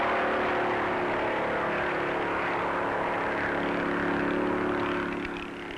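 1956 NASCAR race cars, Pontiacs among them, tear past at full speed on the Daytona Beach course, a loud, steady engine roar that holds the whole time and eases slightly at the end, with no talking.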